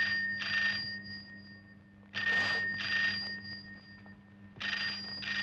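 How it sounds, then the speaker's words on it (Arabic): A telephone rings in repeated double bursts with short pauses between, fairly loud and close, no voices. "رد على التليفون."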